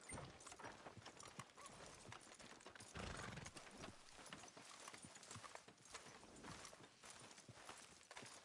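Horse hooves in Red Dead Redemption 2 clip-clop steadily over a hard surface, a quiet rhythmic walking beat against a soft background hiss.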